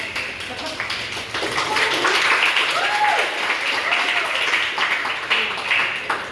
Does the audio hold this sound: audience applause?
yes